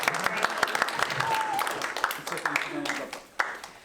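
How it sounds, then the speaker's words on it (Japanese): An audience claps for four performers after a parable skit at a bilingual Japanese-English church talk, a short burst of applause with voices talking over it. "拍手してください。"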